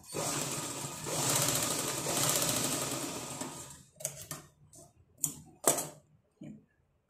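A sewing machine stitches blouse fabric, running as a loud steady whir for about four seconds, then breaking into several short separate bursts with brief pauses between.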